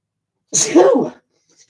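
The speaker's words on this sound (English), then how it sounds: "I'm going to sneeze." A single loud sneeze close by, a sharp burst followed by a short trailing exhale, then quiet.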